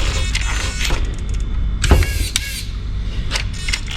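Front differential locker engaging on a 6x6 truck: a sharp mechanical clunk near the middle, with lighter clicks around it, heard up close over a steady electric motor whine.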